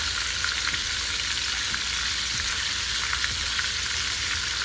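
Meatloaf sticks fry in olive oil with a steady, dense hiss of bubbling oil, even and continuous at close range with no talking.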